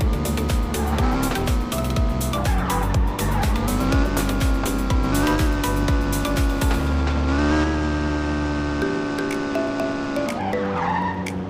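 A car skids and screeches through Car Simulator 2, engine droning loud with tonal revs and continuous tyre squeal, then the sound shifts and thins near the end.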